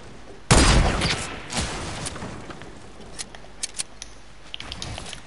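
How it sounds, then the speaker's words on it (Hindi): FAMAS assault rifle fire in a video game, one loud sharp burst at the start followed by a few fainter shots and scattered small clicks. "अबे फमास इतनी गंदी है"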